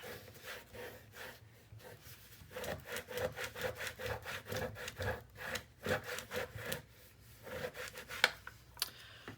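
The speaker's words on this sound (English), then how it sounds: "turn it over and give it a good burnish." Paper for a Stamperia Golden Harmony mini album being burnished with rapid back-and-forth rubbing strokes, close and steady with no voices.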